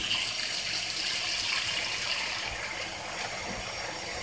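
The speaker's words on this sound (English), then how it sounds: "Put some water in it." Water running from a kitchen tap into a container in the sink during oxtail prep for a crockpot, a steady close hiss and splash that holds level the whole time with no talk over it.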